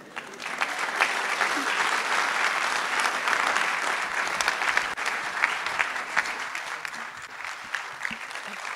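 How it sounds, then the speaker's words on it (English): Loud, continuous applause fills a large church-style gathering as a speaker leaves the stage, a dense, even wash of clapping with occasional sharper individual claps standing out. "we can't stop clapping till she's off the stage"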